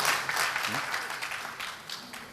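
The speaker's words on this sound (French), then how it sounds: "Applaudissez-nous." Audience applause at a French spelling contest, a broad steady wash of clapping from a crowd indoors, moderately loud, with some voices mixed in underneath.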